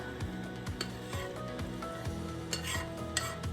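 Eggs cooking in a pan for dinner with steady sizzling and scraping stirring strokes plus a few metallic clinks of utensil against the pan, close and continuous, no talking.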